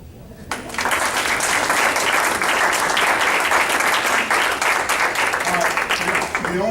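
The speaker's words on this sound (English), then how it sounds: "I would like for all of us to give these guys a round of applause." An audience breaks into sustained applause after a speaker asks for a round of applause, dense clapping that starts suddenly and holds steady at close range.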